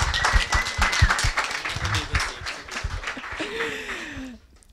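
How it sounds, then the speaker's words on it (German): Audience at a talk on Creative Commons licences breaks into lively clapping that stays full for several seconds, then fades quickly as a voice murmurs near the end. "ist noch ein extra Applaus"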